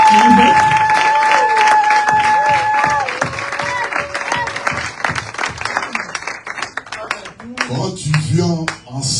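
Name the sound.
congregation applauding in church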